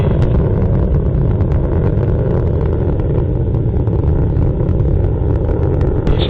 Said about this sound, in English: Solid motor is beginning to taper off.